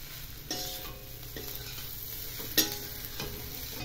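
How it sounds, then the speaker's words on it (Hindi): Upma being stirred continuously in a pan, a steady low sizzle under repeated scraping strokes of a spoon, with one sharp clink of metal partway through, close and without talk. "लगातार चलाते रहना है ताकि लम्स ना बने, एकदम खिले खिले बनेंगे।"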